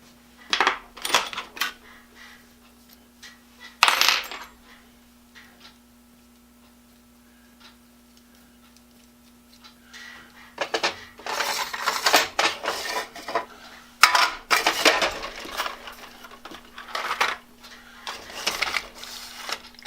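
Metal hardware such as lag bolts and cable clamps handled in a workshop, giving scattered clinks, rattles and clattering bursts, sparse at first and then busier and denser, fairly close over a steady low hum.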